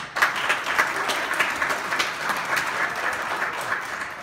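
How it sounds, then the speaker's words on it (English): Audience applause at a City of Stonecrest meeting, a steady crowd of clapping hands sustained evenly across the whole stretch without any voices. "let's give them a round of applause for that"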